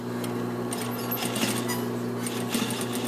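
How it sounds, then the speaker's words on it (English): A sewing machine runs steadily while edge stitching a jacket hem to its lining, giving a continuous close motor hum with a fine rapid stitching rhythm and occasional faint clicks. "And I'm going to edge stitch."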